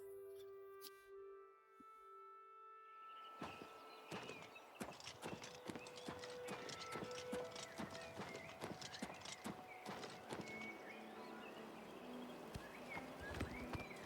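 Hooves clip-clop in a steady, brisk rhythm after a brief musical intro, with a horse's whinny mixed in and game-like tones around it, from Elder Scrolls IV: Oblivion Remastered.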